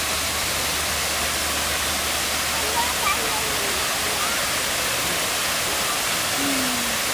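Waterfall at Hayden Falls Nature Preserve pouring in a steady, dense broadband roar that holds even from start to finish, close and loud with no break.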